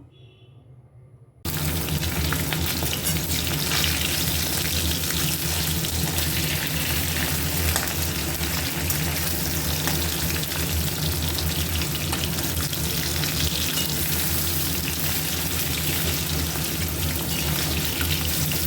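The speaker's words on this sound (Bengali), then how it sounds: "মাছ ভাজতে কড়াইতে দিয়ে দিলাম তেল এবারে মাছগুলো ভেজে নেবো" Fish frying in oil in a kadai: after a short quiet start, a loud, dense, even crackle of frying sets in and holds steady throughout, with no voices.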